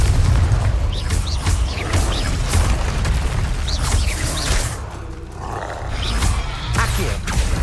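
A Confringo explosion spell in the video game Hogwarts Legacy, loud rumbling booms and bursts amid dense, continuous combat noise with a low roaring texture throughout.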